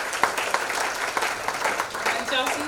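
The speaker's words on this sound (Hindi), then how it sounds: "जोरदार तालियां बजाइए" Audience applause at a nursing and paramedical institutes award ceremony, a dense steady wash of clapping from a crowd heard somewhat distantly, with a voice coming over a loudspeaker partway through.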